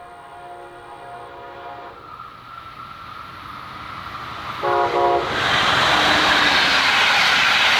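A Brightline passenger train heading northbound on the Orlando line in Brevard County approaches and passes close by, sounding its horn, with the rumble and rush of wheels swelling loudly toward the end.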